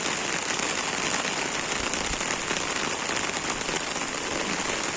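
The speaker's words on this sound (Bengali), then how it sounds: "আর অনেক বেশি বৃষ্টি হচ্ছে, সুন্দর ঝুম বৃষ্টি" Heavy downpour drumming steadily on surfaces, a dense continuous hiss with no letup, close and loud throughout.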